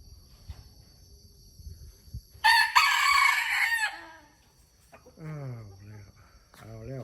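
A rooster at a forest temple in Nong Khai crows loudly once in a long strained call, followed by softer clucking and low speech in the background.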